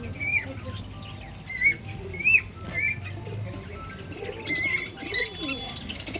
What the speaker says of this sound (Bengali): এবার চারিদিকে ক্যামেরাটা ঘুরিয়ে দেখে দেন যে কতগুলো খোপে কতগুলো পায়রা রাখা আছে।